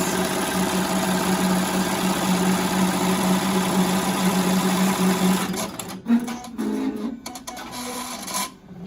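A Melco embroidery machine stitches a tack down stitch to hold mask fabric in place, a loud, fast, steady mechanical rattle that runs for several seconds and then stops, followed by brief clunks and a pause.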